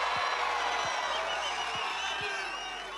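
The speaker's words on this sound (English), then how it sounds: "Do you hear that crowd back there?" A large rally crowd in Texas makes a continuous background roar of many voices with faint cheering, steady throughout the short stretch.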